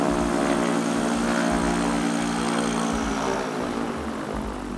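A single-engine light aircraft, a Diamond DA50 or Cirrus SR22 with a three-blade propeller, drones steadily and close by, its engine and propeller hum holding an even, pulsing tone with no voices.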